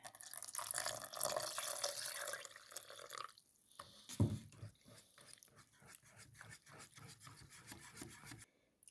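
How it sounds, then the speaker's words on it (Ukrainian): A cup of water is poured into an egg-and-flour batter in a bowl, a trickling, splashing pour followed by scraping and stirring sounds, close and fairly quiet with no talk. "додаю чашку води"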